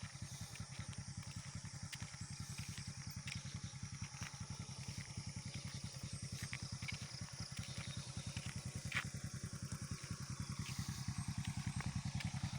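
A motorcycle engine putters in a steady, rapid rhythm close by, running continuously at a fairly even level with a slight rise toward the end.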